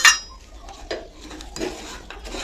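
Semolina halwa with cashews and raisins being stirred in a pan, giving a short sharp clink of the utensil at the start, then soft scraping and rubbing strokes at close range, with no voices.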